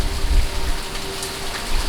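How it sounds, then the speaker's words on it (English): Dense, steady rain hissing close by as it blows through Category 4 Hurricane Laura, with low rumbling gusts underneath and no voices. "you can really see the rain blowing past us"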